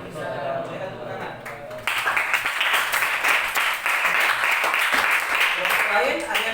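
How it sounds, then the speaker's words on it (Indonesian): Classmates applaud a student group's presentation in a school lesson. After a brief stretch of low voices, dense clapping breaks out suddenly and continues steadily, fairly close, with chatter mixed in. "Silakan tepuk tangan."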